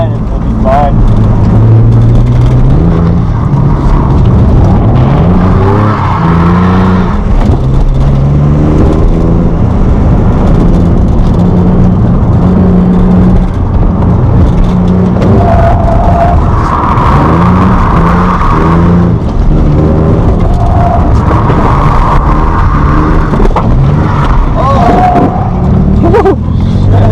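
A Nissan Z drift car's engine revving hard while drifting, loud sustained engine drone with rising and falling pitch heard close, under people talking.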